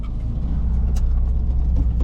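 An old van due a brake service drives along the road, its engine giving a deep, constant, close rumble heard from inside the cab, with no talking.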